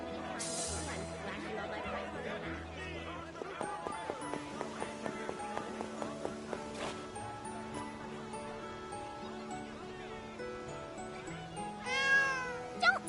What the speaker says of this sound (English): It's just a cat.